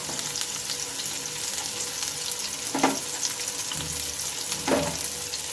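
Chopped onion frying and sizzling in hot oil in a pan for pasta, a steady hiss with two brief bursts of stirring, close and moderately loud, no talking.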